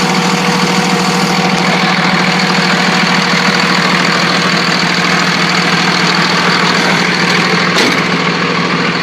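A 1999 Dodge 2500 diesel truck engine idling steadily and loudly up close, a continuous rumbling clatter with a faint whine, no talking.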